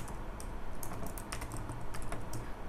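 Keys clatter on a computer keyboard in a fast, irregular run of light clicks, with a steady low background hum underneath and no voices.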